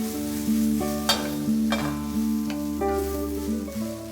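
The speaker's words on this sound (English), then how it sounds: "Add in the garlic and ginger, shimeji and shiitake mushrooms." Garlic, ginger, shimeji and shiitake mushrooms sizzle and sauté in a pan, with a steady frying hiss, a few stirring scrapes and clinks, and no talk.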